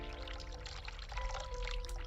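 Hot water running steadily from a sink tap in a hospital-like room in the video game The Cat Lady, a continuous pouring hiss lasting about two seconds with no talk over it.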